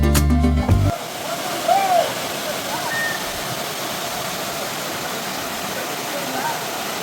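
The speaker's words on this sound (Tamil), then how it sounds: "மாசில அருவி உண்மையிலேயே ரொம்ப நல்லா இருக்குங்க. நல்ல ஒரு ஃப்ளோ இருக்குது." Masila waterfall in the Kolli Hills pours with a strong flow, a steady, dense rushing roar heard close by after a brief burst of other sound at the start.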